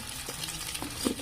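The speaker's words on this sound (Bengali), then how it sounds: "ডিমগুলো খুব সুন্দর করে ভেজে নেব।" Eggs fry in hot oil seasoned with a little turmeric in a pan, a steady close sizzle and crackle with a few soft stirring scrapes, heard briefly and alone.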